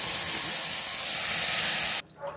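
Loud, steady hissing sizzle as ground vallarai keerai chutney hits hot oil with spluttered mustard seeds, continuous for about two seconds before cutting off abruptly, leaving near silence.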